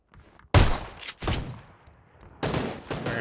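Bursts of shotgun fire in the PUBG video game, a sharp nearby blast followed by a second shot and a later loud report, with quiet gaps between.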